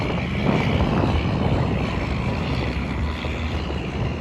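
Racing boat engines roaring at a reservoir, a loud sustained drone with steady broadband rush and no speech over it.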